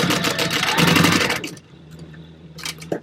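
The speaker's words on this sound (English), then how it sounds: "I'm just going to base stitch that in place as well." A sewing machine runs a basting stitch through fabric for a book bag, whirring with a steady rapid rhythm up close for about a second and a half, then stopping to a low hum before a brief burst of stitching near the end.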